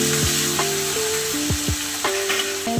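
Chopped garlic and onion hit a hot pan for a Kathiyawadi dish, giving a steady broadband sizzle with scraping and stirring knocks, close and fairly loud, no voices.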